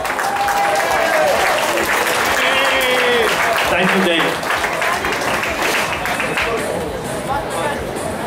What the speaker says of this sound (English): I want a big round of applause for Dave and his wife and the staff.